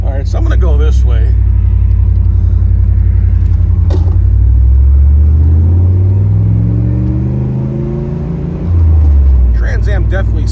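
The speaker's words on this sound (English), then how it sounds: "Trans Am definitely sounds really good, aggressive." A 1994 Pontiac Trans Am with a six-speed manual rumbles loudly as it drives down the road, with a deep, steady engine drone that swells and shifts in pitch through gear changes.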